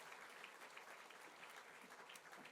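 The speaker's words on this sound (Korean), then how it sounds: "우리 두 분을 위해서 다시 한번 뜨거운 박수 보내시기 바랍니다" Applause from a congregation at a Korean church welcome service, a sustained, dense clapping crowd heard at a moderate distance for the whole moment, without any voices over it.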